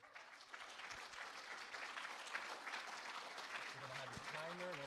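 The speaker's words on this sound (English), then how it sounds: "Give us a round of applause." Steady, fairly quiet audience applause fills a room at a game-engine programming talk, broad clapping throughout with a voice starting to speak near the end.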